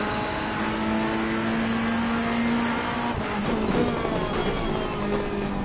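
McLaren and Ferrari GT race cars at Donington in Assetto Corsa Competizione, engines screaming at high revs with gear shifts and a close pass, loud and continuous without talk.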